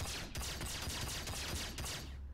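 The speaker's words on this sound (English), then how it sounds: "use this pistol to shoot off pieces of the Mustang" Rapid bursts of pistol fire hit a Mustang spaceship in a space combat video game, a quick string of sharp repeated shots over a dense, steady roar.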